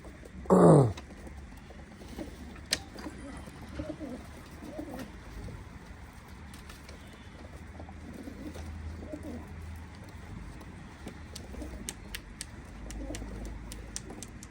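Pigeons coo softly in the background amid faint rustling and clicks, with one brief loud burst of noise near the start.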